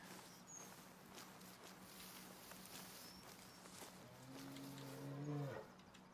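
An animal warning call in theHunter: Call of the Wild, heard as a low, drawn-out bellowing cry that swells and then cuts off, set against a steady outdoor background of insects and faint rustling.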